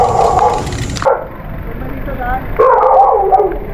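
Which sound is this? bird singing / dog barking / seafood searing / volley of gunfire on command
dog barking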